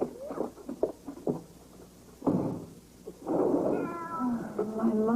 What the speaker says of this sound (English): the poor kitty must be cold out there